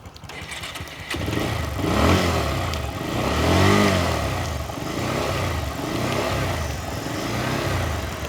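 A second-hand double-disc motorcycle engine starts and runs close by, holding a steady mid-pitched idle that swells gently with a few light revs, with no voices.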